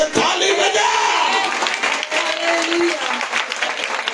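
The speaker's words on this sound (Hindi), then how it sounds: "तो जोर से ताली बजा।" A church congregation at a Sunday worship service claps loudly and steadily for about four seconds, a dense wash of applause mixed with crowd voices and shouts.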